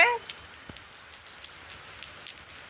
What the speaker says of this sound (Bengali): আমরা বৃষ্টিতে গোসল করতে আসছি মাম মেয়ে মিলে অনেক বৃষ্টি হচ্ছে